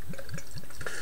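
Ei8ht Ball Tarnished golden ale beer is poured, giving a soft, steady liquid trickle with faint bubbling and small splashes, quiet and close.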